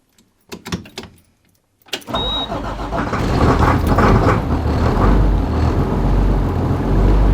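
A few clicks and clunks precede a bus's starter cranking in Yukon winter cold, then the engine catches and settles into a loud, steady, rumbling idle.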